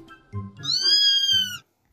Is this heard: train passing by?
no